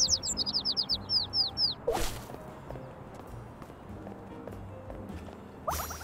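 Bird in the video game Little Kitty, Big City chirping in a rapid run of high bright tweets, followed by a couple of sharp whip-like swishes and soft game footsteps.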